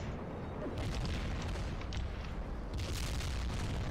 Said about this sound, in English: Laser guided bomb, airstrike.